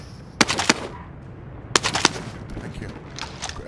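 Machine gun fire in Call of Duty Warzone, two sharp bursts of a few shots each separated by a pause, loud and close, with faint game ambience between.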